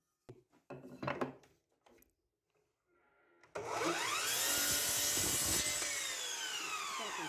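Wooden boards for a toy rocking horse are handled with a few scattered knocks and rubs, then an angled cut begins: a loud, continuous, whining saw bite through the wood that holds to the end.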